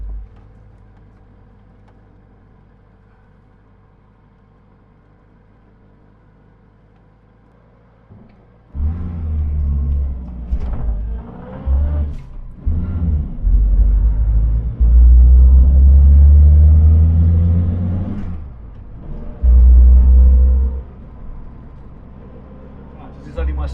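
A Reliant car, the one called Foxanne, recently back on the road, drives to a Reliant Owners Club rally: a quiet idle for several seconds, then loud engine rumble and revving as it pulls away, with a voice talking over it.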